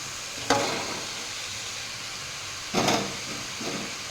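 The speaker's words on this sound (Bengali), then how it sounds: "এখন কষানো হয়ে গেছে, এখন আমি আমটিকে ছেড়ে দেব।" Mango pieces go into a hot pan of sautéed spices, giving two sharp bursts of sizzle and steam hiss over a quieter steady frying background, followed by a softer flare near the end.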